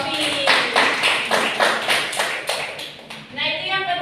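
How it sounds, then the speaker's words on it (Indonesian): A small classroom group claps for a student during a microteaching session, a few hands beating in a loose rhythm, close by, before a voice starts speaking at the end. "Tepuk tangan buat Mbak Sofi"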